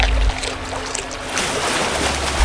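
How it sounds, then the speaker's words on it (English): Water splashes during a struggle between a snake and a fish, a short burst of splashing and churning water, close and moderately loud, with no speech. "Water splashes."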